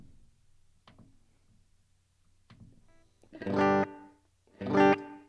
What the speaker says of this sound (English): Let's check out the gated reverb.